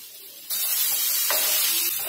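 Tomato drops into a hot pan of frying onion, garlic and curry leaves, setting off a sudden loud sizzle that holds steady and bright, with brief stirring crackles.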